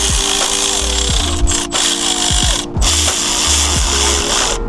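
A power tool whirs in repeated bursts, spinning up and winding down, as it snugs hose clamps on the intercooler charge pipe of a GR Corolla with an OTL Performance intercooler. It is loud, close and steady, with no talking.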